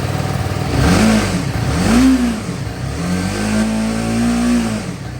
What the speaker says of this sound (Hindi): सुबह में जब आप इंजन को स्टार्ट करते हो और उसके बाद एक्सीलरेटर को बार बार रोल करते रहते हो